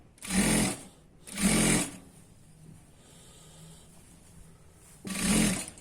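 A sewing machine stitches a half-inch seam along the waist of ankle-length pants in three short, separate bursts of close mechanical whirring, with quiet gaps between.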